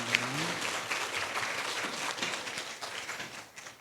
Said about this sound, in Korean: 긴 시간 동안 열정적인 강연을 해주신 대표님께 다시 한번 큰 박수 부탁드립니다.